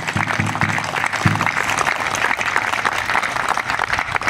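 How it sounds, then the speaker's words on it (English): Crowd at a naming ceremony applauding veterans, steady dense clapping throughout, with a few low voice fragments early on. "Maybe we could have a round of applause for all of our veterans"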